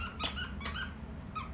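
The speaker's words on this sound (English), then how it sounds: "my dog is playing behind me with the squeaky toy" A dog plays with a squeaky toy in the background, giving a few quick, faint squeaks spread across a short, quiet stretch of room sound.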